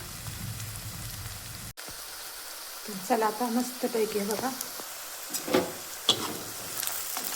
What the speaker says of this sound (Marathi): चांगला चांगला फ्राय व्हायला लागलेला आहे